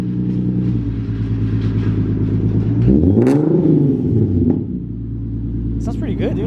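An Infiniti Q50 with an ISR single-exit aftermarket exhaust idles with a deep rumble, then revs up and drops back down midway through the clip, loud and close.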